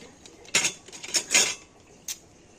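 Two metal spoons are handled at a utensil seller's stall, clinking together in a few sharp, bright bursts, then one final clink after a short pause.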